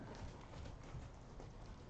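Horses trot around a riding ring carrying young riders, giving faint, distant clip-clop hoofbeats in a quick steady rhythm, with no clear talk over them.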